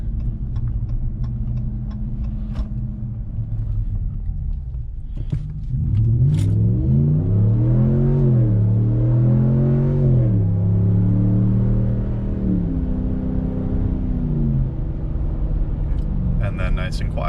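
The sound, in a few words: Ram 1500 5.7 Hemi with Borla S-Type exhaust, full throttle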